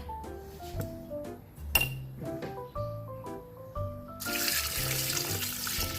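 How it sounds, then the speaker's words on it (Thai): Water is poured from a tap into a pot of boiled bamboo shoots, with scattered metallic clinks of the pot up close and then a loud, steady rush of running water toward the end. "แล้วเราก็จะเติมน้ำให้ท่วมหน่อไม้นะคะ"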